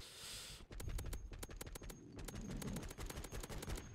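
Rapid bursts of M4A1 gunfire hit a zombie in MW3 Zombies, loud, close and sharply repeated for several seconds with brief pauses between volleys.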